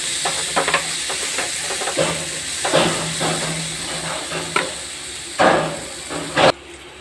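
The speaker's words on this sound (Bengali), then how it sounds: "মধ্যে আমি কেটে রাখা পেঁয়াজ আর কাঁচা লঙ্কাগুলো ভাজা ভাজা করে ভাজতে দিয়ে দেবো" Sliced onions and green chillies frying in oil give a loud, hissing sizzle, with intermittent clanks and scrapes from stirring, one sharp knock, and an abrupt cutoff at the end.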